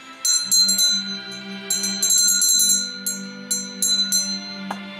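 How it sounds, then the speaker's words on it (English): Bell ringing in repeated clusters of bright metallic dings with lingering ring, loud and close against a steady low hum, no talk. "I'm going to ring the bell again"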